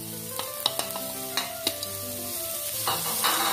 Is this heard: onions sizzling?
yes